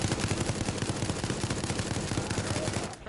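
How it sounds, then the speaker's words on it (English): Sustained rapid machine gun fire in the video game Project Resistance, a continuous loud rattle of closely spaced shots that cuts off near the end. "Be so kind as to wait there. With a machine gun."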